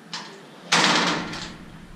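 An apartment door in a studio flat opens with a faint click followed by a louder, broad rush of sound that slowly fades, heard alone without talk.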